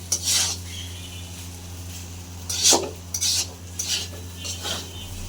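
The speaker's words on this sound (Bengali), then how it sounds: "এই যে দেখো নুডলস রান্না করছি।" Noodles cooking in a pan as a utensil stirs them, several distinct metallic scrapes and clinks at irregular intervals over a steady low hum, with no voices.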